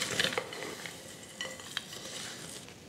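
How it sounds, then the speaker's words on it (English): Granola muffin batter being mixed in a bowl, soft scraping and stirring with a few light clinks near the start, close and fairly quiet, with no talking. "Give this a mix."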